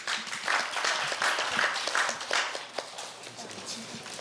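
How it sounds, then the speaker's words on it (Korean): Audience applause at a Korea University speech contest greets a middle-school contestant, a steady patter of many hands with a few louder claps, fairly close and continuous, with faint voices underneath. "큰 박수 부탁드립니다."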